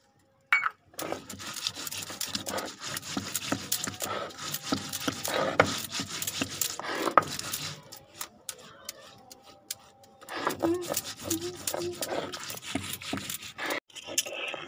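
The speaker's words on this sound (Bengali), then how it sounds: "এটাকে এবার আমি বেটে নিই।" Cooking ingredients are ground by hand, giving rhythmic rubbing and scraping strokes in rapid bursts with a short pause midway, close and moderately loud.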